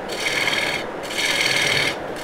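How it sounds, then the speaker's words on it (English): Lathe tool hollowing a spinning wood piece like a bowl, two rasping, scraping passes close up with a brief lull between them, no voices. "we're just gonna start hollowing this out like we would a bowl"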